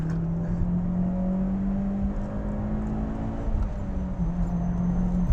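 A Mitsubishi Evo X with all-wheel drive accelerates hard, its engine note rising and holding as it pulls through the revs, loud and close from inside the car, with no voices over it.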